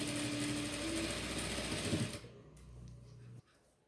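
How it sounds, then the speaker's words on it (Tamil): A sewing machine stitches elastic onto baby shorts in a close, steady whir for about two seconds, then stops, leaving a faint low hum in a quiet room. "இப்போ இந்த மார்க்கிங் மேலேயே ஸ்டிச் பண்ணிக்கிறேன்."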